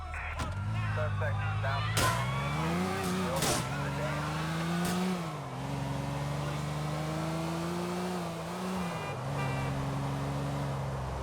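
A car in Grand Theft Auto IV pulls away during a police chase, its engine revving and shifting through gears in a steady loud drone, with brief sharp impacts near the start.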